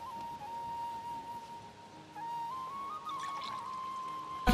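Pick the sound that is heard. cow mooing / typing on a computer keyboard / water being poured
water being poured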